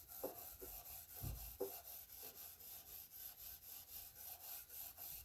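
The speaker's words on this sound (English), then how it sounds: "This is very, very fine steel wool." Very fine steel wool rubs across an old fiddle in soft, rhythmic back-and-forth strokes. The close, faint scratchy swishes repeat about twice a second, and a few heavier handling bumps come early on.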